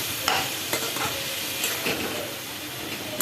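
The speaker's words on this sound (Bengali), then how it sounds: "বন্ধুরা, আমি কষানোর জন্য জলটা দিয়ে দিলাম, দিয়ে ঢাকা দেবো।" Soybean curry frying in a pan as water is poured in, giving a continuous loud sizzle and steamy hiss with occasional stirring scrapes, close up and without talk.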